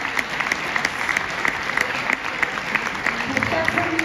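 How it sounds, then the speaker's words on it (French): An audience at a French national gathering of working-class neighbourhood residents claps to welcome a woman to the stage: dense, steady applause from a large crowd that carries unbroken through the whole clip. "Applaudissements pour Madame Diablet, s'il vous plaît."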